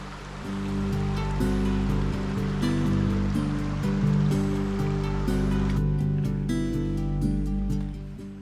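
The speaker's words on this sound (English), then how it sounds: "There's kind of sort of waterfall. It's like over what's left of a beaver dam." A small creek waterfall spills over the remains of an old beaver dam in a national forest, a close, loud, steady rush of water with no voices.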